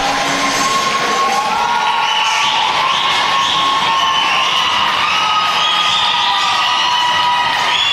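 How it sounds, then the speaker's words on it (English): Women's college hockey arena crowd reacting loudly to a five-minute penalty call, a sustained mix of jeers, shouts and whoops that carries steadily at high volume for several seconds. "5-minute penalty and somebody's booing that?"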